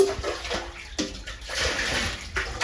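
Muddy water gushes and splashes while a well is pumped dry in Kerala, a close, uneven pouring noise with surges and brief dips.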